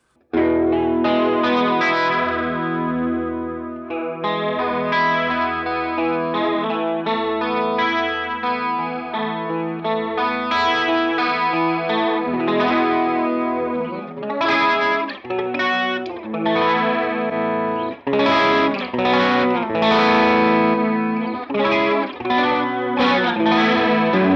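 Guitar played through a Helix ADT effect with the wobble set fully up gives a warbling, chorus-like doubled tone, strummed chords and picked notes ringing continuously, loud and alone with no speech.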